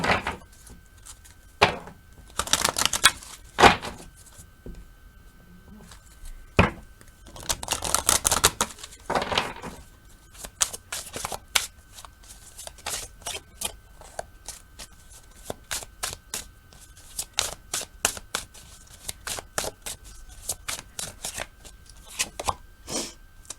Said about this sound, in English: Just going to draw you a card from the Conscious Spirit Oracle deck.